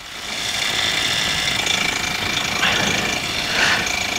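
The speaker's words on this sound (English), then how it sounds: "Checks are complete, just waiting for the engine to warm up." Light aircraft engine idling steadily as it warms up before taxi, a constant close drone with a faint hum and vibration, no talk over it.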